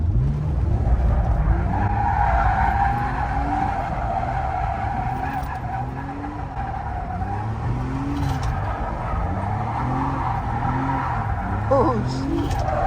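A BMW drifts on a practice course, its tires squealing in long, wavering screeches over a revving engine, with people talking nearby throughout.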